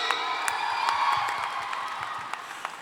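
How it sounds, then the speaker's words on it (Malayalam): Applause and cheering from a crowd of fans for actor Jayaram at a lively public event, steady clapping with scattered whoops held at a constant level throughout. "ഒരു നല്ല കൈയടി"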